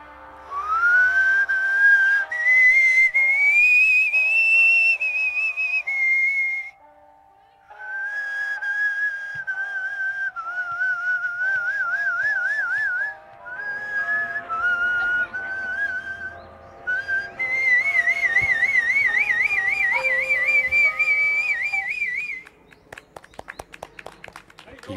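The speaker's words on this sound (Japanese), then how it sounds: "松谷さんは指笛の講師なんだそうです" Finger whistling (yubibue) by an instructor plays a bright, piercing melody with trills and slides in long phrases. Short pauses fall between phrases, and faint outdoor background sound sits beneath it.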